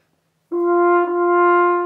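A muted French horn sounds a single steady held note, thinner and softer in tone than an open horn, close and alone with no talking.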